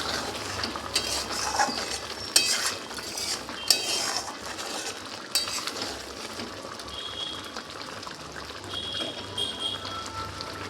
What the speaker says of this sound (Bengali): ভালো করে নাড়াচাড়া করে নামিয়ে নেব